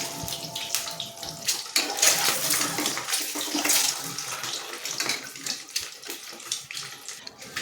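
Peeled boiled eggs fry in hot oil in a pan for an egg curry, giving a steady, close sizzling hiss with crackling spatters that runs unbroken throughout, with no voices.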